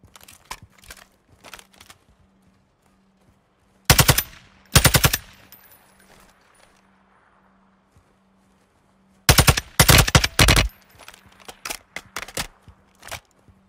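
Rapid automatic gunfire from the Warzone 2 video game rips out in several loud bursts, with scattered single shots and distant pops between them, and no one speaking.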